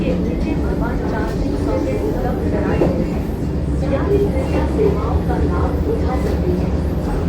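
Inside a moving Vande Bharat express train, a steady, loud low rumble of wheels and carriage runs continuously, with muffled cabin sounds and voices mixed in.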